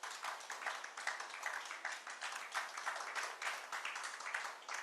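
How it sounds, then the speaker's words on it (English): Moderate applause from a conference audience on agricultural policy in Africa as a speaker joins the stage, steady dense clapping with no talk over it. "You can clap for Constance"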